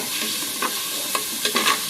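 Food sizzles steadily in a pan while a utensil scrapes and stirs in a few quick strokes, close and fairly loud.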